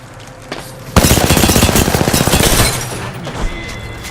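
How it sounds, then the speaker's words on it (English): Rapid automatic gunfire from Apex Legends rattles loudly and close, a sustained burst of about two seconds starting suddenly, followed by a quieter trailing shot. "He's shooting at me."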